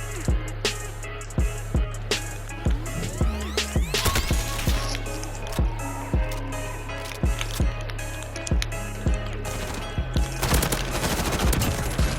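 Gunfire in Call of Duty: loud, close shots and rapid automatic bursts with sharp cracks, arriving in irregular clusters and continuing almost throughout.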